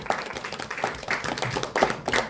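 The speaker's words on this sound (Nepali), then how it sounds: "उहाँहरूलाई जोरदार ताली दिनु होला।" An audience in a hall applauding senior distributors at an event, with scattered, uneven hand claps rising and falling in a moderately loud burst, no voices.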